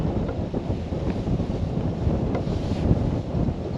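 Wind gusting across a boat cruising on the Norfolk Broads, a loud, rough buffeting roar against the microphone with a continuous low rumble and no speech.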